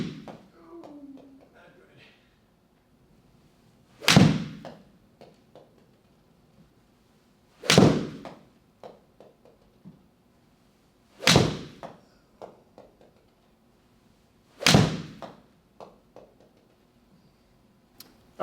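Four crisp iron strikes from a Mizuno 221 muscle back 34-degree iron with Dynamic Gold 120 S300 shaft, evenly spaced about every 3.5 seconds, each a sharp loud click followed by faint ball flight and quiet background.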